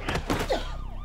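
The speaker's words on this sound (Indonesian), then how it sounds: "terdengar suara sirene polisi" A police siren wails in a short burst of rising and falling tones. A dull thump sounds near the start.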